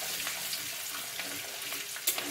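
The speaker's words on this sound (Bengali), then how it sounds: "দিয়ে এটাকে আমি একটু ভেজে নেবো।" Vegetables with ginger paste and chopped green chili fry in a wok for vegetable fried rice, giving a steady close sizzle with light scraping, alone with no talk.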